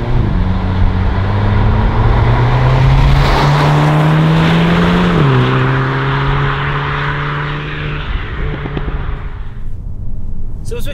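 A Hyundai Kona N in N mode pulls hard under steady acceleration, its engine note climbing loud and close from inside the car, dipping at a gear change, then easing off with crackling pops as the throttle lifts.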